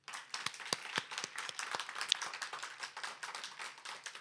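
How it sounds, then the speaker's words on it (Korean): Scattered clapping from a congregation at a reunification prayer gathering, a modest group of distinct individual claps, fairly quiet and somewhat distant, tapering as it goes. "여러분들이 뜨겁게 박수를 한번 더 쳐주시면 좋겠어요"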